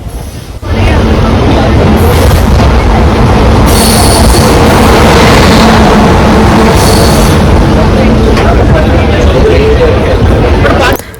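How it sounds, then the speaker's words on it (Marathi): MEMU local train pulling into Virar station, a loud sustained roar of rolling wheels and carriage rumble with high squealing brakes, heard from on board with faint crowd babble underneath. "आता विरार स्टेशनजवळ आली आहे ट्रेन"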